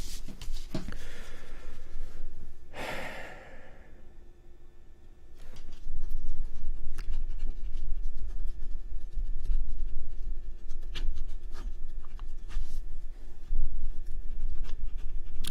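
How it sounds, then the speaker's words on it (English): A pen writes on paper, giving quiet scratching strokes and small taps close to the microphone over a low background hum, with one louder scrape early on. "Let me write this down."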